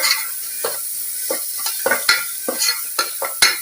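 Semolina (rava) with turmeric powder is fried in a pan, with loud, rhythmic scraping stir strokes at close range, about a dozen in quick succession, over a light hiss.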